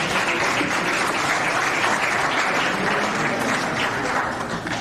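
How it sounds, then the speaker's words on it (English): A room full of people at a senior athletics awards dinner claps loudly and continuously, a dense, even wall of applause with no break. "let's give them a round of applause one more time"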